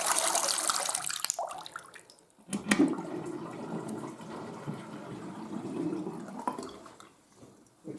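Rainwater draining through household pipework, a gurgling, rushing flow that briefly drops away, then resumes as a steady wash of running water and fades toward the end.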